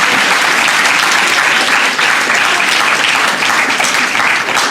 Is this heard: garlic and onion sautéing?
no